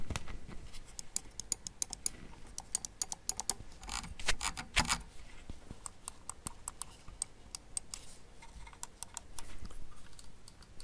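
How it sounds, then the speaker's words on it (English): Sharp, dry button clicks from a Logitech G502 Hero gaming mouse, recorded close to the microphone, come in irregular runs and single taps throughout with no talking. "I'm going to put the microphone there so you can hear the click."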